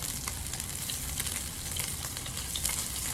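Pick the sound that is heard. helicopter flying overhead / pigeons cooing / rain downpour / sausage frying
sausage frying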